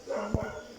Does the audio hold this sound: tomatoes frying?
no